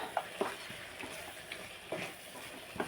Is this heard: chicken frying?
yes